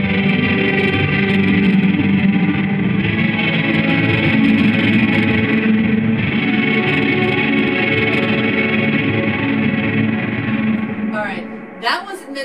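A Squier Paranormal Super-Sonic electric guitar plays through a reverb chip on a glitchy setting, giving a dense, smeared wash of sustained notes that rings on continuously, then breaks into a few stuttering blips at the end.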